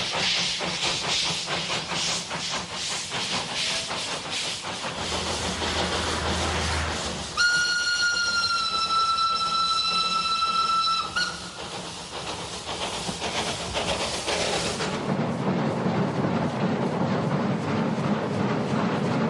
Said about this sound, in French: Un train qui siffle, qui sent le charbon et se balance sur les rails, c'est tout de même autre chose.